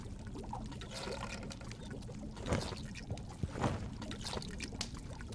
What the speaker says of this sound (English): The goulash is bubbling in the cauldron.